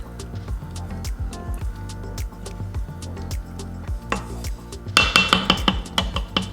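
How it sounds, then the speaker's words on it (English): A spoon knocks and scrapes against a pot of leek and potato soup with heavy cream in irregular clinks, getting louder and busier toward the end, with no talking. "And give that a good stir."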